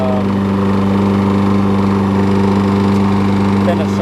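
Murray push mower's small engine runs close by with a steady low drone, slightly uneven and sputtering; a voice talks over it.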